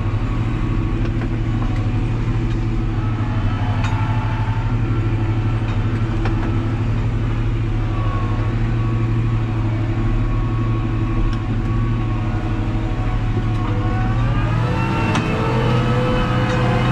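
A Fendt 314 tractor engine runs steadily and loud and close, a strong low drone with harmonic bands and a shift in pitch near the end as it picks up speed.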